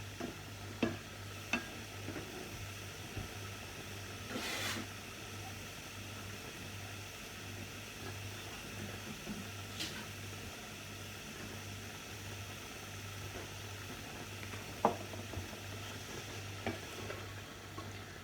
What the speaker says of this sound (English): so we'll brown your mince